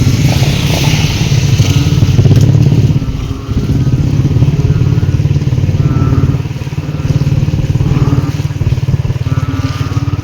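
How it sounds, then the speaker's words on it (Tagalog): Motorcycle engines drone loudly and steadily nearby, rising and dipping as bikes pass one after another. "na diri nag-agi ang mga motor oh"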